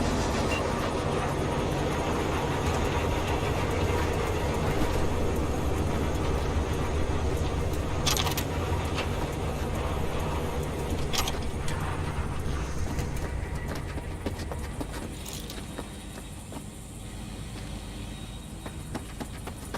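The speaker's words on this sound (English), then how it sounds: "All right, the train's leaving." A departing train in the video game Cyberpunk 2077, heard as a steady, loud low rumble of rolling rail cars with occasional sharp clanks, easing slightly toward the end.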